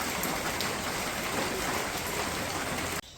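Rain pouring steadily in a village, a dense even hiss of falling drops that holds loud and unbroken before cutting off abruptly near the end.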